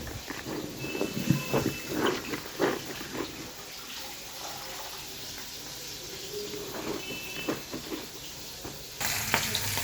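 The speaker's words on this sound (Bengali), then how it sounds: "বন্ধুরা মাছটা তত সময় ভাজা হতে থাক" Fish fries in hot oil in a pan, giving a faint, steady sizzle and crackle with scattered louder spits and splashy bursts throughout.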